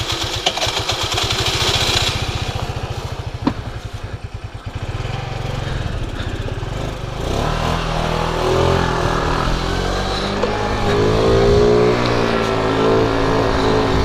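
A stock 50cc scooter engine revs and drones steadily while riding, loud and close throughout, with a buzzing pulse in the first few seconds and rising, wavering pitch later as the throttle changes.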